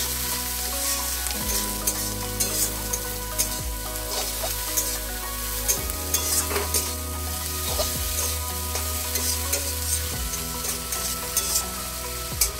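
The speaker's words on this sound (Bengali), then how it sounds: "একটু ভালো করে নেড়ে করে নেবো" Gima greens frying in a pan as they are stirred, with a steady close sizzle and frequent scraping, tapping strokes of a spoon against the pan, no talk.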